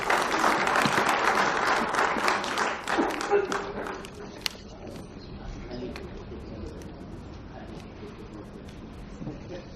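Loud applause from the audience at a book launch for Mahalon Mein Vanvas by Prabhat Prakashan. The dense clapping fills the first few seconds, then thins into scattered claps and low crowd murmur.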